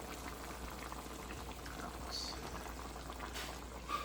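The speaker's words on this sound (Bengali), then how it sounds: "এদিকে আমি গরুর মাংস বসিয়ে দিয়েছি" Beef simmering in a boiling pot on the stove, a soft continuous bubbling and gurgling, faint and close, with no talk.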